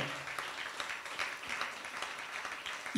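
An audience at a talk on the Ramayana claps together in a steady, fairly faint patter that lasts the full stretch, with no voices over it.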